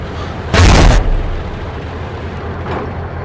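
In the Armored Warfare tank game, a shell strikes and knocks out a tank turret with one loud, close, booming impact, followed by a fainter second thud about two seconds later.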